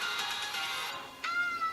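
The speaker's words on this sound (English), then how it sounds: "There may be occasional meows in the video." A cat gives a short, faint meow in the background of a quiet indoor room, a thin tonal cry that rises briefly and then fades.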